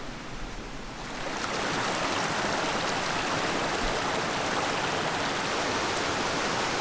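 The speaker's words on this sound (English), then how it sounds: "I just can't get enough of these creeks." A creek flows through a dense pine forest in the Jeseník mountains, its rushing water making a steady, even wash that grows slightly fuller after the first second.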